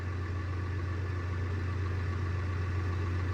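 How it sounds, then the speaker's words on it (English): A tractor engine idles steadily nearby with a deep, constant low hum and an even rumble throughout, no variation or other sounds. "But I'm in the tractor right now and we're gonna see if I can turn it where we need it."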